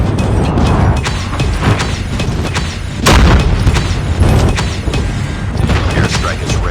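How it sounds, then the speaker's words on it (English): Loud, continuous booms and blasts from airstrikes and napalm roll through a Call of Duty Mobile match on the Shipment 1944 map, with layered explosions, rumbling and gunfire-like pops and a brief burst of game voice. "Friendly airstrike incoming."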